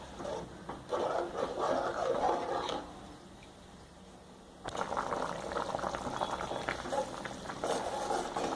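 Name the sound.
ennai kathirikai kulambu (eggplant curry) with tamarind water boiling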